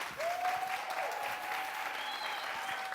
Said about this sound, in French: je demande quand même bien plus d'applaudissements que cela.